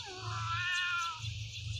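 A cat meows in the video game Raise a Floppa, a single drawn-out, slightly strained call over a steady low background hum, with no talking.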